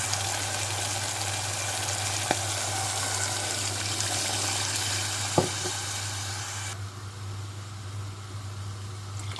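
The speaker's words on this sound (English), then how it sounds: "Then I'm going to add 2 cups of water." Two cups of water go into a pan of frying chickpea pulao, producing a steady hiss and sizzle with a couple of sharp clinks, then the noise dies down to a quieter simmer.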